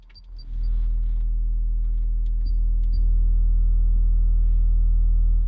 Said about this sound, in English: I'm using a 40 hertz sine wave. If I turn it up, it sounds like this.